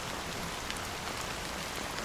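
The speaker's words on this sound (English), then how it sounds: "how long has this rain been going on for?" Steady rain falls in the video game Honkai: Star Rail, an even, continuous hiss of drops that stays constant and unbroken throughout, with no voices.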